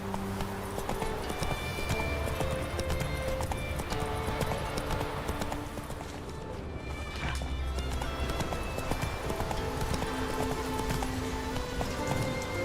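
The horse Roach in The Witcher 3 gallops with steady, continuous clip-clop hoofbeats, close and fairly loud, over a dense game soundscape of wind or rain.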